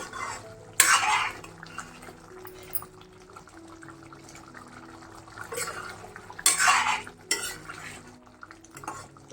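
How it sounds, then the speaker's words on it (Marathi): A spoon scrapes and stirs raw banana masala vegetable in a metal pan, with two louder clattering bursts among soft intermittent stirring and a light sizzle. "भाजी आता हलवून घेऊया"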